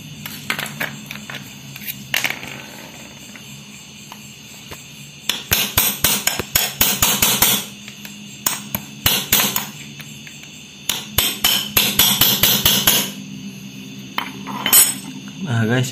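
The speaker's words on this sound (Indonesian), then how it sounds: "Kita pukul menggunakan obeng min." A flat screwdriver strikes the ceramic insulator of a dead spark plug, producing sharp metallic clinks and taps, first sparse, then in rapid bursts of repeated hits with short pauses between them.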